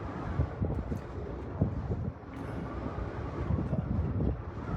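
Wind gusts buffet a stopped, swaying cable car cabin high above the ground in Taif, Saudi Arabia, making a steady rumbling roar with low thumps and occasional creaks, continuous and fairly loud throughout.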